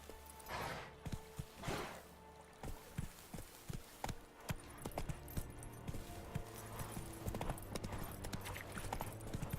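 Roach, Geralt's horse in The Witcher 3, galloping: steady rapid hoofbeats thudding on the ground, close and continuous, with a couple of faint snorts early on and no talk.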